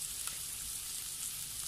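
Red onion and garlic sautéing in a pan, a soft steady sizzle holding evenly throughout at a faint, close level with no voices.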